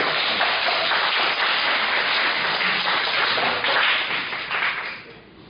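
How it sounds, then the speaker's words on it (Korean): A church congregation breaks into dense, sustained applause that holds steady for several seconds and then fades out. "박수 한번 주세요"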